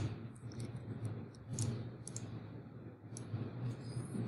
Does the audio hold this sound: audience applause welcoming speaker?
no